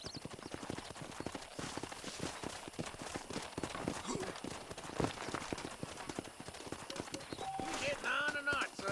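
Horse hooves clip-clop in Red Dead Redemption, a dense, fast run of close, loud hoofbeats with a brief whinny near the end, while voices talk over them.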